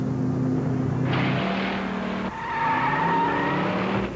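A car drives past with tires skidding, its engine tone steady and close before shifting pitch midway as a squealing, whining note rises over it; no one speaks.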